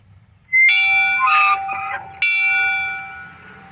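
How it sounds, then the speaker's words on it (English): A hand bell is struck twice, each strike ringing out loud and close with a bright metallic tone that slowly decays. There is quiet wind noise at the low end and no talk. "Let's ring the bell."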